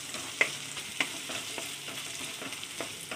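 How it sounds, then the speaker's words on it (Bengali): Grated coconut frying and being stirred in a pan for a small batch of milk payesh, with a steady soft sizzle and periodic scraping stir strokes, close and moderately quiet, no talking. "আর এটাকে এখানে একটু ভেজে নিই সুন্দর করে।"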